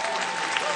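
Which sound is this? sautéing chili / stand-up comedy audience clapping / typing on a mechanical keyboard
stand-up comedy audience clapping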